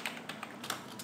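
Someone types on a computer keyboard while working in Excel, producing a quick run of light, close key clicks at an uneven rhythm.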